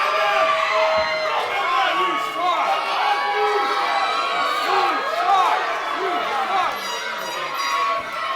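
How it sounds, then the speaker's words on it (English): A wrestling crowd jeers and shouts at Kurt Obey, loud overlapping voices and whoops filling a busy arena. "The crowd laying into Kurt Obey."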